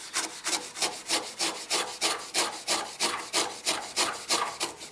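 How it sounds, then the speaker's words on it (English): Foam polishing pad scraped clean with a flat scraper: steady, evenly spaced rasping strokes, about two per second, close and fairly loud, with no talking. "I've got the scraper, and I flip it kind of upside down so it's flat, and then I can get an even scrape on it"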